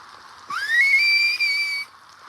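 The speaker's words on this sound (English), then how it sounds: "I just need a straight line whistle" A person whistles one sustained, steady note outdoors at night in the woods. The note slides up at the start, holds for about a second and a half, and is clear and fairly loud with no talking over it.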